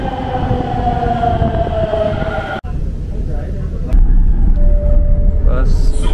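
A Delhi metro train heading to Jamia Millia Islamia rumbles along with steady mechanical roar and rising whine, a brief sharp dropout, then louder rolling noise; voices are faintly present.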